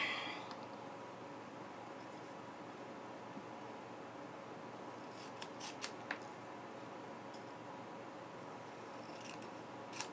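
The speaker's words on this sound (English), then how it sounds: "Snips." Scissors snip through paper while wording is cut apart for a craft project, giving a few quick, sharp, separate snips over a quiet background hiss.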